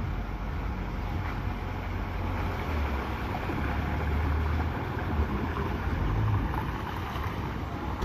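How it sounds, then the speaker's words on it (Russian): A boat motoring across open water near an island off Sri Lanka, a steady low engine drone mixed with wind buffeting the microphone and water rushing past, continuous and fairly loud throughout. "За нами приезжает лодка"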